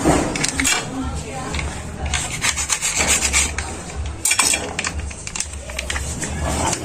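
A knife works through ingredients for kinilaw na dilis, giving repeated scraping, rasping strokes against a board with occasional clinks of utensils, close and fairly loud, under faint background voices.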